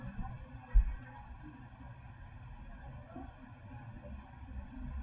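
One sharp, faint computer mouse click early on, over a low steady hum at a desk while working in SQL Server Management Studio.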